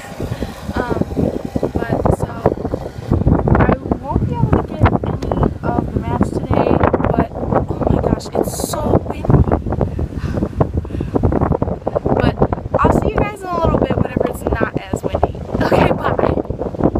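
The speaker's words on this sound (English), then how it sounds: "It's so windy." Strong wind buffeting the microphone in loud continuous gusts on a golf course, with a person talking over the roar.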